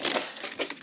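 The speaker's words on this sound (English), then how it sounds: "One last shuffle." Tarot cards being given a final shuffle, a quick papery riffle and crinkle under a second, close and fairly soft.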